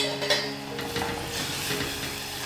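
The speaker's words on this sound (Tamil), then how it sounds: "இப்ப நம்ம லைட்டா கொஞ்சமா தண்ணி ஊற்றுக்கணும்" Water poured into a hot pan of green chilli pachidi sizzles steadily, a soft continuous hiss with a faint clink or stir at the start, no voices.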